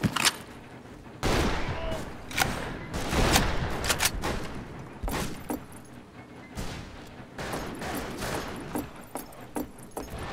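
Gunfire in the Fistful of Frags western shooter, heavy shotgun blasts and other shots going off irregularly, some close and loud, others more distant, with no talking.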